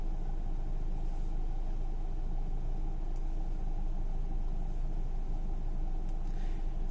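A car engine idling in city traffic in Qatar's Al Sadd area while waiting at a red light, a steady low rumble with a constant hum and faint background traffic, no talk.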